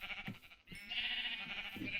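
Sheep bleating in the video game Minecraft (ModCraft), a few drawn-out bleats over about two seconds, fairly faint against a steady background hum.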